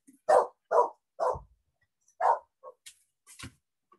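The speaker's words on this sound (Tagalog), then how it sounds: "Medyo maingay yung aso." A dog barks repeatedly nearby in a quiet room, several sharp barks in a loose rhythm followed by a few smaller yips and noises.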